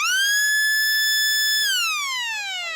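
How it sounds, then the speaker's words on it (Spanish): A warning siren at a tunnel construction site sounds before blasting, holding a loud steady tone and then winding down in pitch as it fades. "3 toques de sirena alertan de que en breve comenzará la voladura."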